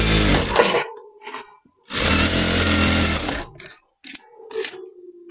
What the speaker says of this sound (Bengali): এপাশে একটি ডাবল করে সেলাই করে দিন।